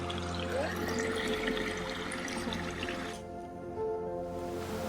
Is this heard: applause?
no